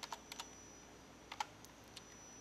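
A few quiet, crisp key clicks from typing on a computer keyboard come in two short bursts separated by a pause, close up in an otherwise still room.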